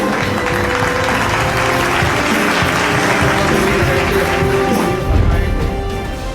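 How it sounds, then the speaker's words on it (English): Audience at an Indian awards ceremony applauds as the Science Icon of the Year is announced, a loud, steady wash of clapping that continues evenly and swells briefly near the end, with music or background sound underneath. "Warm round of applause"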